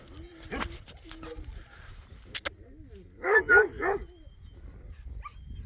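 A large Kangal dog lets out a few deep barks in a quick cluster, along with softer whines and yips earlier, close by in a quiet setting.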